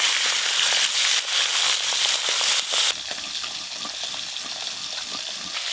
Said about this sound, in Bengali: এই মাছগুলো ভাজা হয়ে গেল